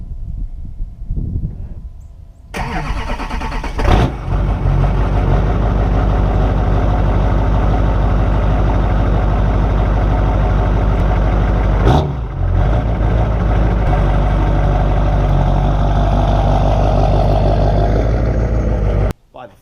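An LB7 Duramax diesel truck engine fires up from cold after a brief quiet moment, then settles into a loud, steady, close idle with a short dip partway through.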